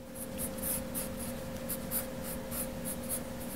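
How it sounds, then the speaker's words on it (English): A fine, hard pencil drawing fur details on paper, a close, faint scratchy rasp made of short repeated strokes over a steady low hum. "Now I want to go in with my pencil here. I've got a fine pencil that's a little bit harder."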